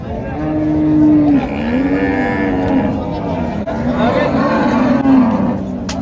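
A big Friesian cow at a busy cattle market lets out two long, deep moos, loud and close, with faint crowd noise behind.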